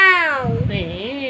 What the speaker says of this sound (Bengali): ক্যাট কিরম ডাকে শোনাই?